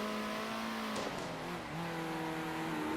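A race car engine whines in the racing game Circuit Superstars, a steady tonal drone with a quick pitch drop and rise as the car brakes and accelerates through a corner.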